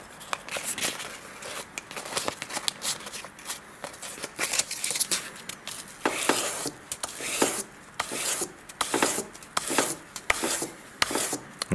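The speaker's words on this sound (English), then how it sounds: "I'm consciously making really nice straight movements with the sandpaper to put that nice even finish on there" Sandpaper is rubbed by hand along a knife blade in straight strokes, making a repeated close-up rasping scrape in irregular bursts, with occasional brief pauses between passes.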